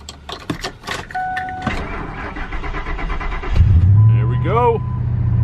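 A 1998 Ford F-150 cold-starting: a few clicks and a cranking whir, then the engine catches and settles into a loud, close idle, with someone speaking over it.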